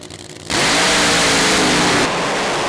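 Fuel funny cars launch hard at a Santa Pod Raceway drag race, a sudden deafening roar bursting in after a quieter half second and holding at full blast before easing slightly as they pull away.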